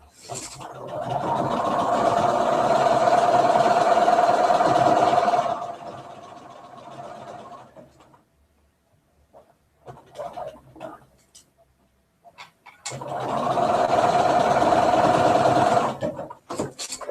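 A sewing machine stitches quilt block seams in two sustained loud runs of steady whirring, separated by a quieter pause with light handling noises.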